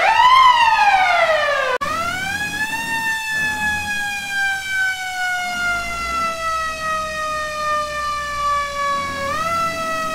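An old school Mack fire truck siren wails loud and close, a rising whoop at the start, then a long steady tone that slowly falls in pitch before rising again near the end.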